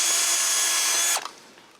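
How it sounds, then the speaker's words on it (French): Close, loud whine of a power drill boring holes through a welded metal bracket, running steadily and then winding down to a stop, with no talking. "Premièrement, il faut percer les trous d'un support que j'ai fait souder."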